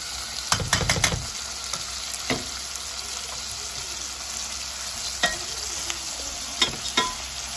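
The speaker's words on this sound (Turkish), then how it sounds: "Biraz da pırasalarımızı çevireceğim bu şekilde." Leeks are turned and stir-fried in a pan, with a soft continuous sizzle broken by a cluster of sharp utensil scrapes and clanks near the start, then scattered stirring knocks. All of it is close and quiet, with no talk.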